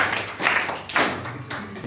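Classroom audience clapping hands for a student after a presentation on continental drift, a few loose claps with uneven rhythm, fairly close.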